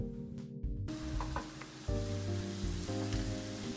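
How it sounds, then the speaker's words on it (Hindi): Roasted ground masala powder is stirred into a sizzling dhaba-style egg curry, with a continuous close sizzle, a few soft scrapes of the spoon, and a low steady hum under it all, without speech. "अच्छे से मिक्स करेंगे।"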